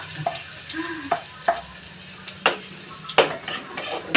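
Shrimp paste (alamang, called balaw in Bicol) cooking in a pan, with a faint steady sizzle under repeated clinks and scrapes of a utensil stirring against the pan, heard close with no talk.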